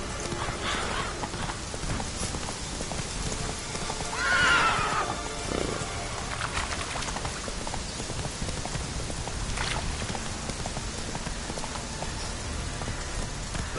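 Roach, a horse in The Witcher video game, gallops with steady clip-clopping hooves and gives one clear whinny early on, all over a constant patter of rain.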